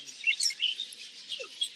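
A young pearl parakeet chirps in quick, thin, high tweets, repeated in short clusters at close range with no voices over them.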